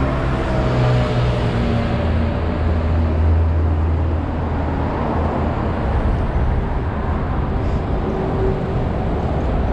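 Constant loud rushing wind noise with a low droning hum from riding a Super Soco electric motorcycle at speed, steady throughout with no voices.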